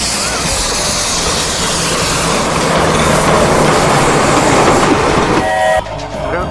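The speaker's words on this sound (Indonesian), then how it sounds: "Kereta api teman-teman." A passing train roars loudly and steadily with a rolling rail rumble, cutting off abruptly near the end, leaving quieter background.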